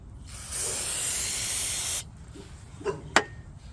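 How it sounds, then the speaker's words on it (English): Aerosol spray can hissing onto brake pads from a Ram 3500 wheel-seal repair, one loud continuous burst lasting about a second and a half, followed by a couple of light clicks and knocks up close. "I'm going to spray it on these pads and let it sit for a while."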